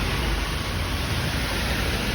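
Heavy monsoon rain pours down in a steady, dense hiss, loud and close throughout with no pauses and no voices.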